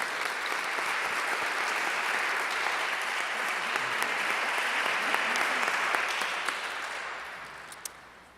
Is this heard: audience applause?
yes